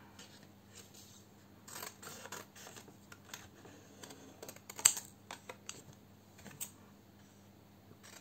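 Scissors snip through paper die cuts in soft, irregular bursts of small crisp cuts, close but quiet over a low steady hum.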